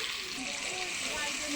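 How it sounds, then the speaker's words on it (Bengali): A small amount of onion fries in a hot kadai on a clay stove, giving a steady, close sizzling hiss that holds evenly throughout. "কড়াই গরম হয়ে গিয়েছে, এখন আমি অল্প পরিমাণে পেঁয়াজ দিয়ে দিয়েছি"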